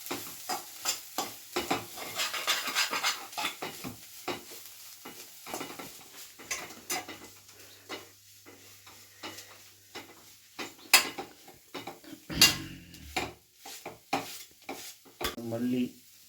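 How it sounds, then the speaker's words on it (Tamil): Chicken pepper masala for thokku sizzles in a pan while a spoon scrapes through it in quick, repeated stirring strokes, close and loud, with no voices over it. "கிண்டி விட்டுருக்கேன்"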